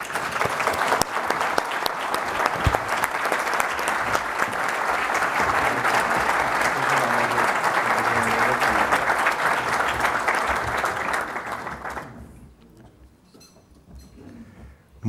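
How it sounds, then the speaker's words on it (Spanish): A large audience at a Forum Europa event in Madrid gives a speaker a warm welcome with loud, sustained applause for about twelve seconds, then it fades out quickly into near quiet. "Recibamos a Iván Duque con un fuerte aplauso."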